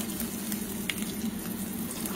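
Zeppole of prawn and parsley dough, Neapolitan style, frying in hot oil with a steady, close bubbling sizzle that runs evenly throughout, with faint clinks and no talking.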